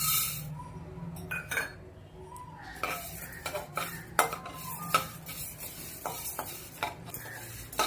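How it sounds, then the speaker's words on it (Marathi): Coriander seeds dry-roasting in a pan for chakli bhajani, with faint crackle and repeated scraping, clinking stirs of a spoon against metal, fairly quiet and close. "आता धणे भाजूया"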